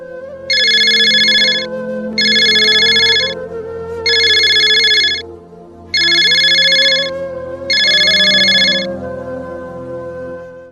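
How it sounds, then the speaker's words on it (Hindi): A mobile phone ringtone plays loudly in five regular bursts of bright electronic tone, each about a second long with short gaps, over a steady background hum. "उस्मान का फ़ोन है"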